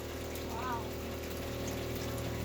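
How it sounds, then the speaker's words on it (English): A newly installed water pump pushes water out to a faucet, giving a steady low hum with a constant rushing flow that stays even throughout. "We have water pumping! And that's how fast it's going to pump out of our faucet, Beck"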